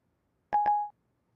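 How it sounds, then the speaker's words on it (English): An iPhone 3GS gives two quick electronic beeps that run into a short held tone as voice control starts dialing a number. The tones are clean and close against silence. "I can also dial a phone number like this."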